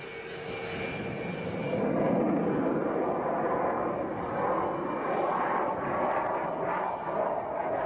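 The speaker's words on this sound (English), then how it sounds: "The jet hangs vertically for what seems like minutes." Fighter jet engine roaring during a vertical hanging maneuver at an air show, a loud, continuous rumbling drone that swells slightly and holds steady throughout.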